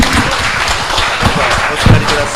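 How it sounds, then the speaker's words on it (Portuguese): A church congregation claps together in praise, a dense, sustained patter of applause filling the room, with some voices mixed in. "Nós vamos glorificar o Senhor com palmas ao nosso Senhor Jesus Cristo."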